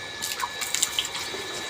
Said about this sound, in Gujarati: જો પાણી ભરાઈ ગયું છે. હવે આ બકરિયાની બાકી છે એને ભરી દેવી.